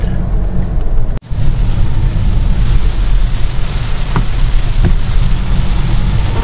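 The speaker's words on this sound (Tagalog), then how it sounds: "Ayan, inulan na kami." A loud, steady roar of rain mixed with engine rumble, heard from inside a vehicle on a winding road in Aurora Province, Philippines, with a brief dropout early on.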